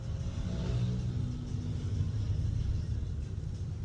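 Automatic-transmission car engine easing off the throttle in heavy, slow traffic, a steady low rumble and drone that holds even and close for a few seconds with no speech over it.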